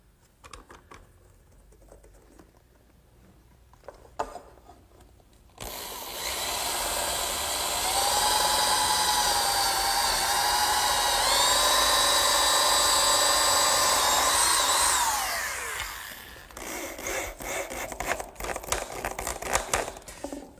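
A power drill bores holes through clamped wooden braces, giving one close, sustained whine of about ten seconds whose pitch wavers and then winds down, with quiet handling noise before and after and no talk.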